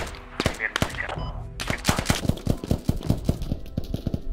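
Rapid bursts of automatic rifle and machine-gun fire in the military shooter game Squad, crisp repeated shots in quick rhythmic strings, moderately close, with no talk.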